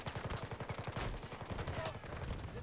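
Rapid bursts of gunfire in Battlefield 2042, a quick rhythmic string of shots up close lasting a couple of seconds, fairly quiet overall with no voices over it.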